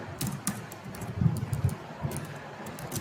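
Keys tapped on a computer keyboard while entering HTML code, soft irregular clicks in short bursts, close and fairly quiet against a faint background hiss.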